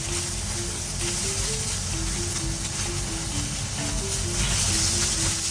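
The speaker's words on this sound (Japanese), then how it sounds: "ベーコンをザバッとで、炒めていきます。" Bacon stir-frying in a hot frying pan for a bento lunch, a loud, dense, unbroken sizzle and hiss close to the pan over several seconds, with faint background music beneath.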